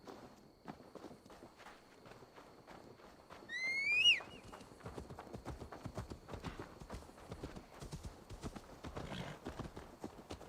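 Horse hooves clip-clop at a steady trotting rhythm in the video game Assassin's Creed Valhalla, with a short whinny in the middle and faint game music underneath.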